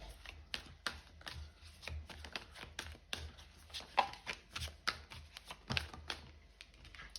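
Tarot cards are handled and shuffled: a quick, irregular run of light slaps and crisp clicks, close and fairly quiet, with no talking.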